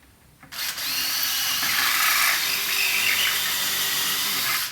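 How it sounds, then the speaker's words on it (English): A power drill starts abruptly and whirs continuously at high speed, close and fairly loud, pre-drilling a hole into wood with a steady grinding whine. "I am going to pre-drill this into the wood."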